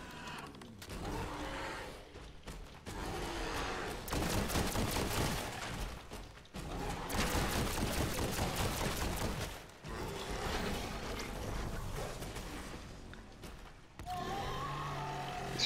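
Ray gun firing in Black Ops 6 Zombies during a Liberty Falls boss fight, shots coming in slow, spaced bursts among dense game effects, loud and continuous for most of the stretch.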